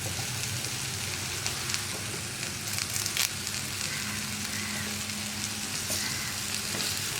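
Curry leaves fry in a pan with egg thoran and okra, giving a soft, steady sizzle with occasional stirring scrapes, close but fairly quiet, with a faint low hum behind it.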